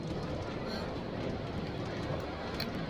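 A metro train ride in the video game Minecraft, a steady dense rumble of rolling rail noise, loud and continuous with no breaks.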